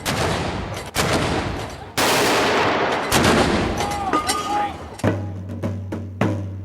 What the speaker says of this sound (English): The Tower of London has been greeting VIPs with gun salutes for hundreds of years. Today, 4 guns are fired.